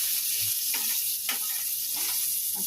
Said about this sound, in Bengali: আর করবো হচ্ছে আলু ভাজা